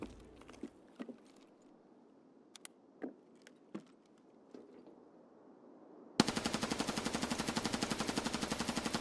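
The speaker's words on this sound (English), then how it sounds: "I spot a player in the distance and immediately put down suppressive fire" Gunfire in a first-person video game shooter: a few scattered distant shots, then a sudden loud burst of rapid automatic fire, evenly spaced rounds hammering on steadily for about three seconds.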